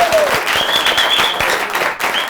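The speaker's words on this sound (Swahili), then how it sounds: "Wapi makofi ya Wanguku?" A studio audience breaks into applause for Wanguku on a talk show, dense clapping that stays loud and steady for a couple of seconds with faint crowd murmur mixed in.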